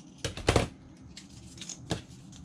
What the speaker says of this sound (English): back with my scissors and trim off this excess